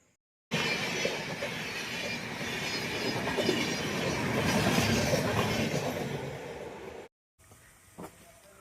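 A passenger train rumbles steadily at a railway station with sustained wheel and carriage noise that swells slightly mid-way and then cuts off, followed by a quieter stretch with a brief knock.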